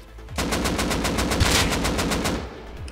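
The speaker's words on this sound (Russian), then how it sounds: "Офигеть, он стреляет." Rapid automatic fire from an AK rifle in the video game Rust, a loud sustained burst of evenly spaced shots running for about two seconds, with no talk.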